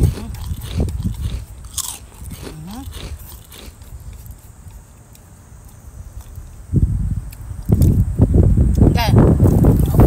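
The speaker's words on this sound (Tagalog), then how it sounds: "Kumakain ako ng itlog." Crunching bites and chewing of an egg close to the mic, with brief talk and breezy outdoor noise around them.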